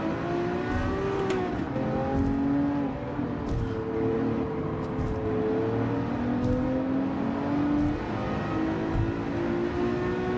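A race car engine in a racing video game drones loudly and continuously, its pitch climbing and easing as it revs through the gears, with whirring tire and road noise underneath and no speech.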